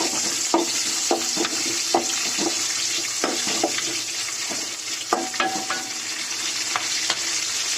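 Spiced cowpeas with slit green chillies being lightly sautéed in a pan: a steady soft sizzle with intermittent spatula clicks and scrapes as the mix is stirred.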